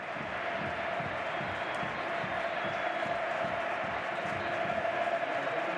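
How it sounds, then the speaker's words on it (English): A stadium crowd at a Barcelona versus Celtic football match in 2016 applauds in a dense, sustained roar of clapping and cheering that holds steady throughout, with a commentator's voice faint beneath it. "There'll be obviously generous applause for Andres"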